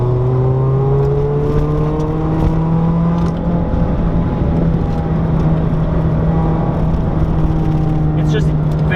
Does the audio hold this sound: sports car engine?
yes